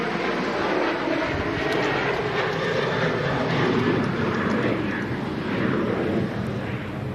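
A Turkish airliner arriving over the runway, loud continuous jet engine roar close by that stays broad and steady before easing slightly at the end.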